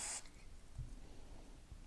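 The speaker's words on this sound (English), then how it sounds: "We're going to spray, open it up, spray" A short, sharp burst of Ezox lubricant spray hits the slide rails of a semi-automatic pistol during cleaning, a close hiss at the start followed by quiet handling noise.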